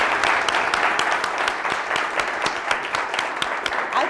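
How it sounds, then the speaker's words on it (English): A conference audience gives sustained applause after a talk on the future of work, dense clapping filling the room steadily from start to finish with no voices over it. "let's give Jen a big round of applause again"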